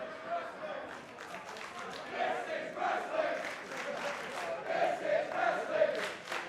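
A pro wrestling crowd at an ATTACK! Pro Wrestling show cheers and chants in swelling, rhythmic waves, moderately loud and sustained, with a lively roomy echo.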